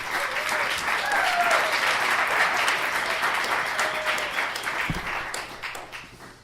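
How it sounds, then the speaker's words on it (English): Audience applause at a real estate mastermind meeting greets a guest speaker, a dense, steady round of clapping that holds for several seconds with faint voices underneath, then thins toward the end. "Please give me a giant round of applause for Rolando."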